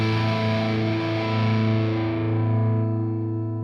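A Reverend Jetstream 390 electric guitar with the neck and middle pickups together plays a sustained, distorted rock chord through a loud amp. It rings out and then fades, with no talking.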